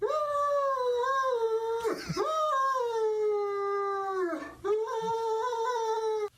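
A Great Dane's recorded whimpers and long, wavering howls fill the air, loud and close, in two sustained stretches broken by a short pause.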